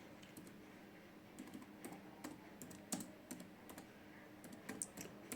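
Keys on a laptop keyboard clack in irregular, close bursts of typing with short pauses, quiet and alone.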